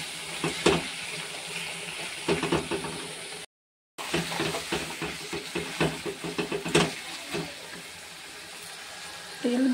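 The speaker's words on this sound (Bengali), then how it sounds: "খুব ভালো করে মাংসটাকে কষে নিতে হবে।" Desi rooster meat sautéed in oil in a rural-style pan, with scraping stir strokes and clatters over a steady background sizzle, and a brief dropout partway through.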